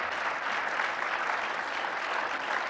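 A church congregation claps together as a clap offering, producing a dense, steady wash of applause that holds evenly throughout without talk.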